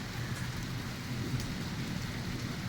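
A thunderstorm over Bath in July brings a continuous low rumble of rolling thunder beneath a steady hiss of rain, with no break across the stretch.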